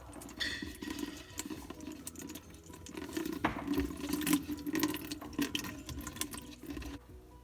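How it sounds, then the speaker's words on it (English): Water running steadily from a hose during a pull-down kitchen faucet replacement, a soft continuous splashing and trickling stream close by with small clanks of handling mixed in. "because there's gonna be water from the hose."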